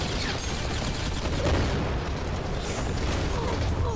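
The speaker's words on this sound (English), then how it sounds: "Oh, so many grenades." Grenades going off in the video game Beyond Citadel: a dense, continuous barrage of booming blasts and crackling gunfire, loud and chaotic throughout.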